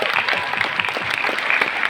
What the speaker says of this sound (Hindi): इस बिजनेस के लिए तालियां बजा सकते हो, मोदी केयर के लिए तालियां बजा सकते हो।